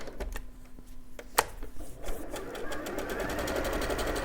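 Zigzag stitching on a sewing machine along a raw fabric edge while making a quilt, with a few clicks at first, then a steady close whirring hum that builds and keeps running.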